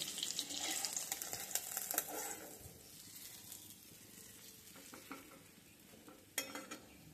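Whole hilsa fish frying in a pool of hot oil, a steady crackling sizzle that is loudest at the start and eases to a softer hiss, with a few utensil clinks near the end.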